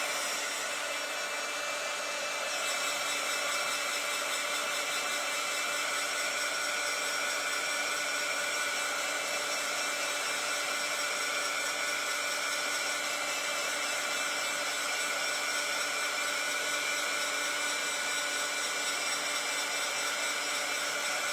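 A hair dryer blows steadily on wet paint on a small piece of artwork, a constant broadband whoosh running unbroken from start to finish at close range with no talking.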